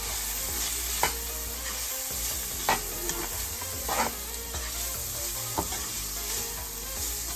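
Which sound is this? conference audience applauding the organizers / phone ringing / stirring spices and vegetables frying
stirring spices and vegetables frying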